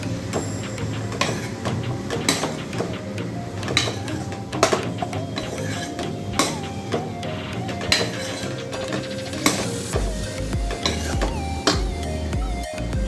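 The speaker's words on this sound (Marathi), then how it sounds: "आणि कोबी टाकल्यानंतर परत असं व्यवस्थित हे मिक्स करून घ्या।" Chopped cabbage and tomato are stirred in a pan, giving irregular clicks, scrapes and knocks of a utensil against the pan over a low, steady background.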